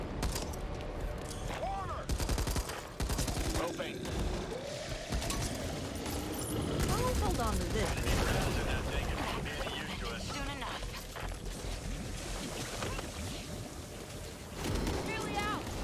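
M249 machine gun firing in the zombie shooter Back 4 Blood, a dense stream of rapid, loud shots mixed with a busy in-game soundscape of explosions and chaos throughout.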